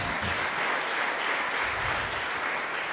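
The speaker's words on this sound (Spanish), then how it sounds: "Si son aplausos para el Señor, hágalo con fuerza, porque Él merece lo bueno." A church congregation claps loudly and steadily for the Lord after a baptism sermon, dense continuous applause filling the room with no voices over it.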